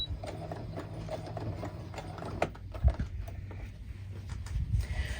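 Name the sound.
sewing machine stitching quilt binding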